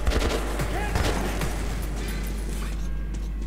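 Shotgun blasts in The Metro video game, a few sharp booming shots in quick succession near the start, followed by lingering game ambience and mechanical clatter.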